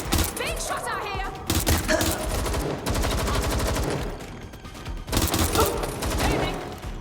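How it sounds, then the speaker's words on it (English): Rapid automatic gunfire from the video game Watch Dogs: Legion, dense volleys of loud shots in sustained bursts with short breaks, mixed with voices under the firing. "Being shot out here."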